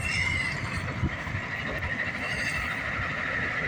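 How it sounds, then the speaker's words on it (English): A steady low rumble with a rushing hiss, like an Amtrak train rolling past at moderate distance, continuous and fairly even throughout. "Oh, here comes the train."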